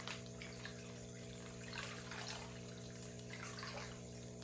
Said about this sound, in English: I'm going to slowly pour my water in